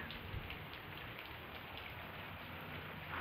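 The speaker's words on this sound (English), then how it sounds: "it's raining like crazy outside. Yeah, look at how hard it's raining." Heavy rain pouring down steadily, a dense hiss of drops striking surfaces with occasional louder splats, no voices.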